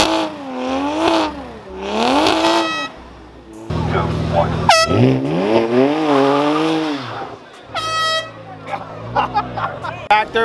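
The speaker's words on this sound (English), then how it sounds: "One air horn is to start, one air horn is to stop." Loud blasts of an air horn signal the start and stop of a driving run beside a wrapped BMW 335i, ringing out over engine noise and nearby voices.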